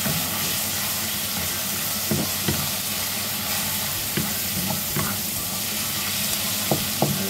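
Chopped tomatoes sizzle and fry steadily in a hot pan for a Filipino eggplant, string bean and mushroom dish, with a few sharp taps of a spoon stirring against the pan.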